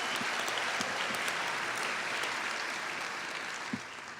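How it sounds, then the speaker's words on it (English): An audience at an Illinois State University College of Fine Arts naming ceremony gives steady, full applause from a large crowd, heard in a big hall and thinning slightly near the end. "I'll ask you to hold your applause for the remaining individuals"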